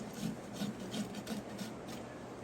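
A hoof rasp files across a horse's hoof during a trim in a short series of rhythmic rough scraping strokes, close and fairly quiet, with no speech.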